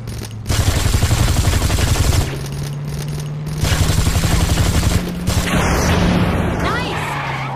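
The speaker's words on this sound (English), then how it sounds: "this is the part where you take this gun and shoot at the assholes behind us while I drive." Sustained automatic gunfire from a gangster video game's driving chase, with long loud bursts aimed at pursuing cars. The bursts are broken by brief pauses, and an engine hum runs underneath.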